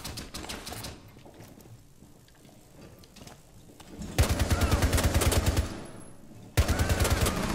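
Bursts of rapid automatic gunfire in a video game crackle loudly in two long volleys, separated by quieter stretches of distant shots and game ambience.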